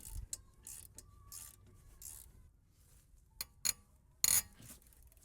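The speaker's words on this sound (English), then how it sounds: "Now I'm gonna remove this brake caliper bracket" A ratchet works on 14mm bolts while the brake caliper bracket is removed from a Subaru Outback, sounding as short clicking bursts and a few sharper metallic clacks, close and quiet, with no talk.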